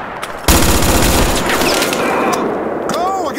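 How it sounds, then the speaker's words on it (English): Heavy gunfire in the war game Mud and Blood, with a sudden loud burst of many overlapping shots that then rolls on as a dense, continuous fusillade. "Keep firing!"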